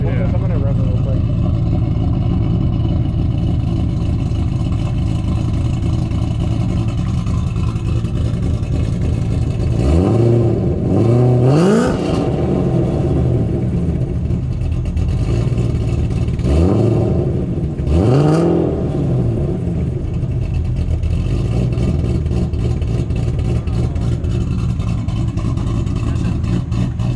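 A 2007 Ford GT500 with cams, Kooks headers, an LTH X-pipe and stock mufflers idles with a deep, steady rumble, then rises in two short, sharp revs a few seconds apart, loud and close.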